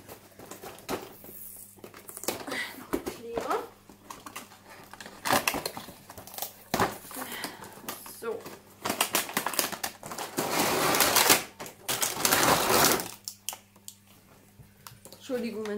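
Plastic packaging and parts of a toy train track set rustle, crinkle and clatter close by during unpacking, with intermittent louder bursts of crinkling and a person talking throughout.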